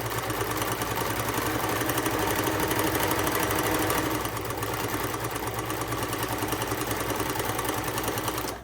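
A sewing machine stitching a hem runs in a steady, fast, continuous mechanical chatter, loud and close, with a slight change in tone midway and no talk.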